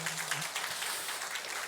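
An audience claps in a church, a dense steady patter of applause throughout, moderately faint, with a brief voice at the start.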